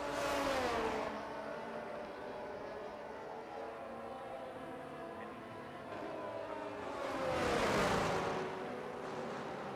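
Race cars circulating under safety car in the F1 23 video game at Jeddah, with engine whir and revving that swell loudly at the start and again near the end as cars pass close, a steady engine drone between.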